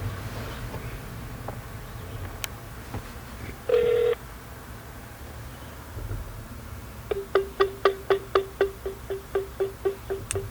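A telephone rings back on a Google Voice call, a short tone followed by a run of regular, evenly spaced ring pulses, heard fairly clearly over low line hiss.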